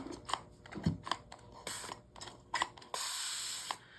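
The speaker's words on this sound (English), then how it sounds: "I am just going to use a spray bottle to spray them with water." Several quick hissing spritzes of water from a trigger spray bottle onto polymer clay with waterslide transfers, short bursts followed by a longer spray, close up with mechanical trigger clicks.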